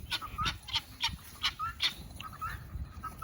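Guinea fowl give rhythmic, harsh repeated calls about every half second, close and fairly loud, with no talking.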